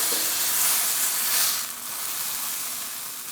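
Steaks searing in a hot pan give a brief, loud, close sizzle with a hissy surge early on that settles into a steadier crackle.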